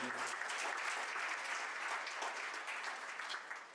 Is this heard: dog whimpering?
no